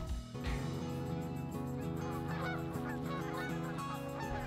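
Flock of snow geese honking continuously overhead during a waterfowl hunt, a dense layered chorus of many calls at steady loudness with no talk.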